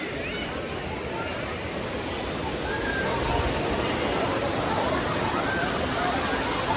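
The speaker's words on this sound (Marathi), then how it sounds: "हाच तो धबधबा मी तुम्हाला म्हणत होतो." Monsoon waterfall at Tungareshwar, Vasai, a dense, continuous rushing roar that stays broad and steady throughout, with faint crowd murmur mixed underneath.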